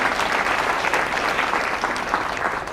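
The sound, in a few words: applause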